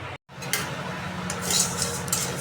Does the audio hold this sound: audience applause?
no